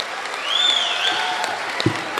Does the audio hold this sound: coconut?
no